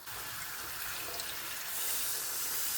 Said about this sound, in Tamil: இப்போ நம்ம தேவையான அளவு தண்ணி ஆட் பண்ண போகிறோம்